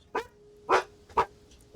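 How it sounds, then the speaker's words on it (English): A dog gives three separate barks, fairly close and moderately loud, each short and sharp with quiet gaps between them over a faint steady hum. "Sorry about my dog."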